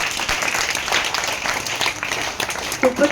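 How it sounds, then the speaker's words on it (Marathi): At a school celebration of Swami Vivekananda's birthday, a group of children claps together in a steady, moderately loud burst of applause for about three seconds, with a few voices audible near the end. "व्हेरी गुड, टाळ्या वाजवा सगळ्या."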